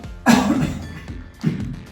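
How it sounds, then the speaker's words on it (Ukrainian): A person coughing on request during tactical first aid training, two separate harsh coughs close by, the first louder and longer than the second. "Якщо він в свідомості, ви можете попросити покашляй, будь ласка."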